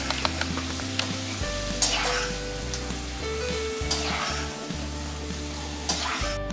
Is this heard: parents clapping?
no